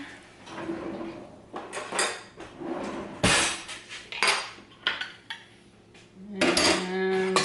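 A spoon clinks and scrapes against a bowl while mixing mayonnaise into a jellied salad, with irregular taps and knocks at close range and no talking.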